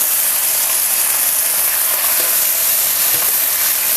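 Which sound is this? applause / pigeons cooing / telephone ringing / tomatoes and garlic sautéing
tomatoes and garlic sautéing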